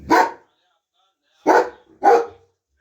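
A dog gives three sharp barks outdoors, one bark followed by a pause and then two quick barks, loud and close, with silence between them.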